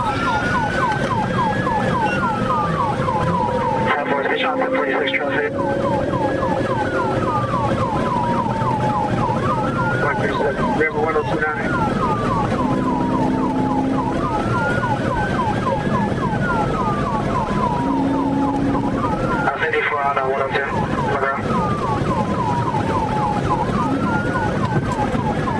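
Police car siren wailing continuously during a high-speed pursuit, a rising and falling cycle repeating every few seconds over road noise, with radio dispatch chatter and voices heard underneath.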